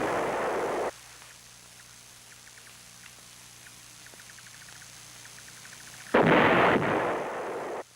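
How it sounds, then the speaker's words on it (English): North Vietnamese artillery shells strike Khe Sanh and nearby Marine outposts: a loud, roaring blast opens, then a long, low rumbling lull with faint crackle, and a second heavy, booming impact erupts near the end. "The North Vietnamese artillery hitting Khe Sanh and the Marine outposts was all indirect fire."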